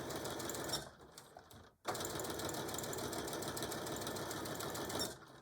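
A sewing machine back stitches a seam on a tool carry bag, running in loud continuous bursts with a brief pause between runs before it slows and stops.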